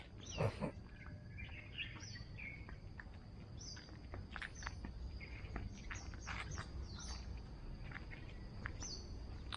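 Small birds chirping and calling in short, scattered tweets in a Singapore botanical garden, fairly faint, over a steady bed of insect-like hiss and soft outdoor ambience.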